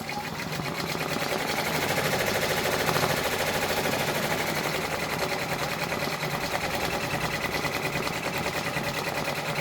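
An embroidery machine stitches an OESD freestanding quilt block with cream and green pumpkins, giving a steady, dense mechanical chatter that runs without a break throughout at close range.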